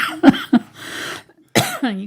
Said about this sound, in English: You gave me your cough now.